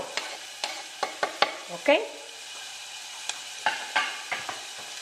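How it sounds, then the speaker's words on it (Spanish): Onions frying in a pan with a soft sizzle, stirred with a run of sharp scrapes and taps, and a brief quiet word spoken once. "Vamos a revolver, vamos a mover, y mientras se va amortiguando nuestra cebollita"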